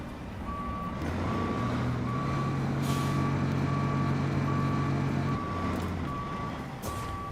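A truck in the video game RoadCraft sounds a steady, evenly spaced reversing beep, about a dozen pulses, over a loud, close diesel engine rumble, with brief hissing bursts near the middle and end and no talking.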